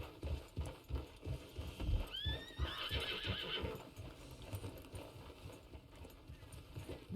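A horse in Red Dead Redemption 2 trots with a rhythmic clip-clop of hooves throughout, and midway it lets out a clear, close whinny over the steady footfalls.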